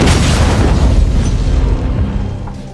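A truck bomb detonates in a loud, broad blast whose roar fills the space and slowly decays over a couple of seconds, with no voices.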